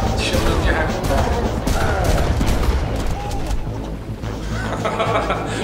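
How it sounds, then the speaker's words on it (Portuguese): Enemy gunfire in the Far Cry Classic game, a dense run of shots and bursts stacked over a steady game soundscape with distant bird calls, while someone talks over it. "Raimundão é o cara que tá atirando em mim."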